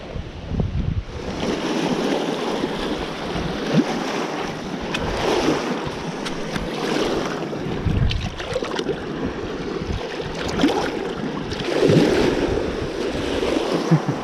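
Waves wash and surge against a riverbank shore, with steady wind buffeting the microphone and a low rumble underneath throughout.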